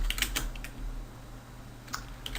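Quick keystrokes on a computer keyboard during a programming lesson come in short clustered bursts, with a steady low hum in the background.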